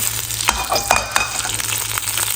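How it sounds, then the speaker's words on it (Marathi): Bay leaf goes into hot oil in a pan as a tempering for a vegetable dish, giving a steady close sizzle with a few sharp crackles and light stirring clinks, no talk. "आता आपण भाजीला फोडणी देऊ एकदम सोपी आहे पण टेस्टी येते एकदम यामध्ये आपण आता तेजपत्ता टाकू"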